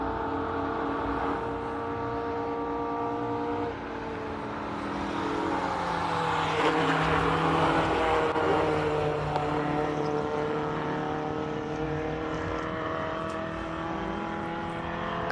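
Classic Alfa Giulia racing at Simola hillclimb, its engine a steady, moderately distant drone that swells and holds through the run with a shifting pitch, no talk.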